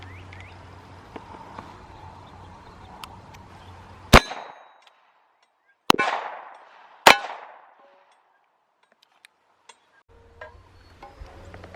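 Three rifle shots fired outdoors at a steel target and a budget AR600 Level III+ steel body armor plate, loud sharp cracks with ringing clangs and decaying tails, spaced irregularly against quiet background.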